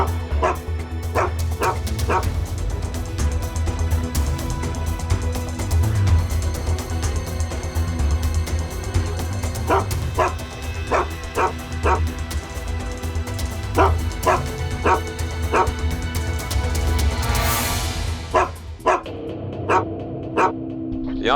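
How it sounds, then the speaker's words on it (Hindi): A dog at a quiet construction site barks repeatedly in short bursts and clusters, fairly close and loud, with brief gaps between volleys and some yips and whimpers mixed in. "फिर ये कुत्ता क्यों भौंक रहा है?"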